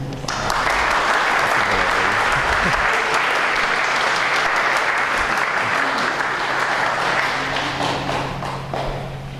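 A lecture audience applauds warmly as a speaker on manners is welcomed to an evening lecture. The clapping is dense and sustained, holds at an even level for about nine seconds and fades a little at the end.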